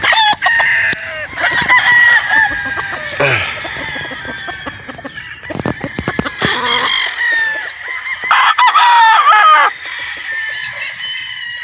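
Gamefowl roosters at a game farm in Batangas, loud close crowing calls repeated several times, with clucks and other birds crowing in the background.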